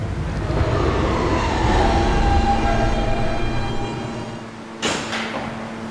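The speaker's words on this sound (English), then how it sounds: "This is a 57th Street bound H train via the E line." Subway train on the E line, heard from inside the car with a steady loud rumble and rail hum throughout, then a brief sharp burst near the end, likely a door or brake sound.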